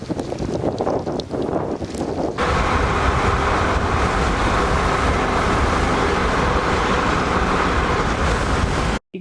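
Strong, steady wind roars and buffets the microphone during a storm chase near Ewing, Nebraska in August 2011, rising to a dense, unbroken rush after a few calmer gusts at the start, with no voices.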